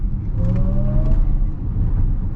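A 2023 Lexus RZ 450e electric car accelerates from inside the cabin, a loud low rumble of road and tyre noise with a rising faint electric whine, steady and close.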